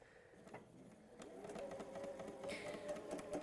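A sewing machine stitches textile, a quiet, fast mechanical whirring with rhythmic ticks that builds slightly over a few seconds, heard up close.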